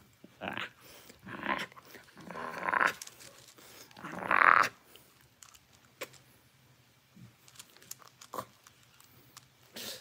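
A Doberman growls and licks up close in bursts, with low rumbles and wet mouth sounds in uneven clusters that fade toward quieter stretches, and no speech.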